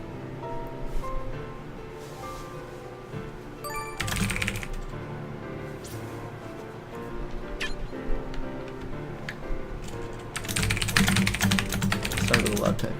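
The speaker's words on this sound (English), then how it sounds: "Start with a lot of typing." Rapid clicking of a computer keyboard as someone types steadily, with bursts of denser keystrokes, mixed with background noise and some faint speech.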